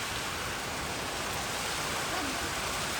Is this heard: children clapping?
no